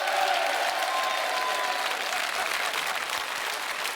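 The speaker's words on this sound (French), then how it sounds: "on applaudit très fort Claire" Studio audience applauding a departing contestant on a French television game show, a loud, sustained burst of many hands that stays even and full from start to finish.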